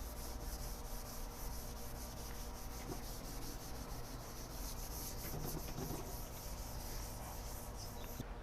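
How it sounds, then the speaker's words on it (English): Damp cloth gently scrubbing black soot off the dome of a Gozney pizza oven, a steady soft rubbing texture that runs continuously throughout at low level, with no talking. "Then you're going to start gently scrubbing."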